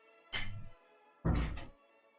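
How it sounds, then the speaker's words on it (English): Two deep, muffled booms of neighborhood fireworks on New Year's heard from indoors, each a short heavy thump about a second apart, the second louder. "damn, the fireworks on the neighborhood"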